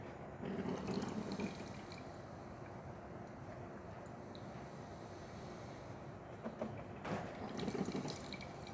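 Steady stream of hot water running and splashing into a container from a DeLonghi espresso machine, continuous and moderately quiet, with faint clatter in the background.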